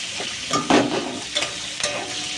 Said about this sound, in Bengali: এবার টমেটোটা দিয়ে ভালো করে ভাজবো